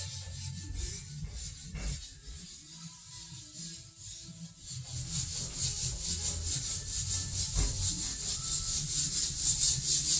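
Steel wool #0000 scrubbing a shower surface with Ajax cleaner, a close, coarse rubbing and scraping that starts irregular, then settles into a faster, louder rhythmic back-and-forth swish.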